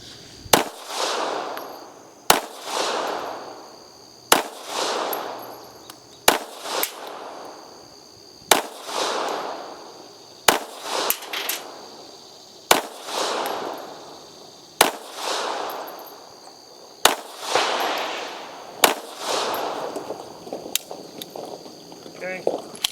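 Roughly ten sharp, loud gunshots from a SCCY CPX3 .380 pistol with factory ammo ring out at an even pace of about one every two seconds, each followed by a brief outdoor echo, with a voice talking in between.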